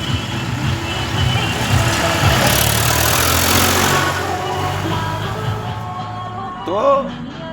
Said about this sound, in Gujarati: ટ્રેક્ટર પસાર થાય છે